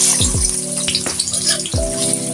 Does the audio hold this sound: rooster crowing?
no